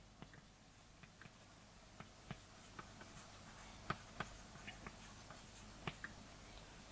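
Chalk or marker taps and scratches on a board during a chemistry lecture on thermodynamics, faint and irregular, with soft clicks spaced a second or so apart over a quiet room hum.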